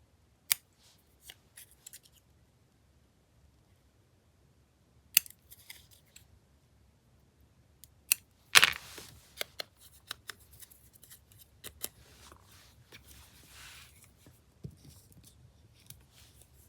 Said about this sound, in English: We'll just snip the corners off.